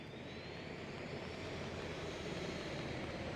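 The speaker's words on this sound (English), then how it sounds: "getting near this helicopter" Helicopter engine in a video game, a steady loud broadband roar that holds constant throughout with no talk.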